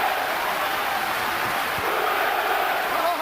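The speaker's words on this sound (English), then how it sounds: "They're cheering downstairs. The applause is building." A heavyweight boxing arena crowd roars and cheers in a continuous loud wash of sound at the 1999 Lewis vs Holyfield fight, with scattered applause inside the din.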